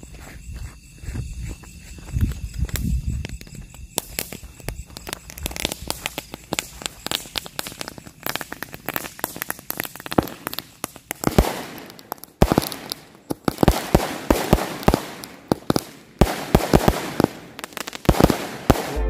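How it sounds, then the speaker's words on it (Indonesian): Roman candle fireworks ringed with small chili firecrackers go off outdoors: scattered sharp pops at first, then a dense, loud run of cracks and bangs in quick irregular bursts. "Selanjutnya kita nyalakan mercon Roman candle yang udah kita susun seperti ini."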